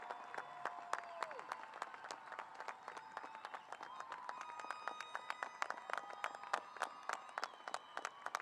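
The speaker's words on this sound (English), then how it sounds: "let's give them all a well-deserved round of applause" An audience at a middle school promotion ceremony applauds steadily, many hands clapping in a dense, sustained wash with a few sharper claps standing out, some voices faintly mixed in.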